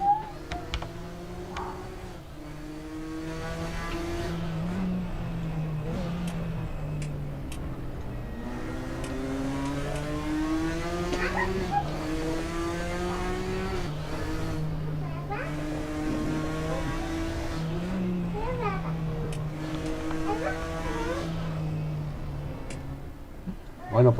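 Onboard a touring classics race car in RaceRoom during the 2020 Iron League race at Gellerasen GP, the engine drones and rises through gears in repeated revving sweeps, loud and continuous for the whole stretch.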